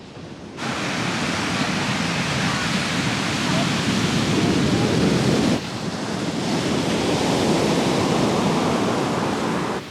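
Rough sea surf after a storm on the Montenegro coast, a loud continuous roar of breaking waves with heavy wind buffeting the microphone, one brief dip midway before the crashing resumes.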